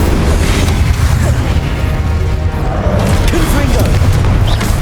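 Incendio fire spell cast in the Hogwarts Legacy video game roars as a loud, sustained rumbling burst of flame, dense and close for several seconds, with a voice shouting over the din.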